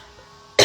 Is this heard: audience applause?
no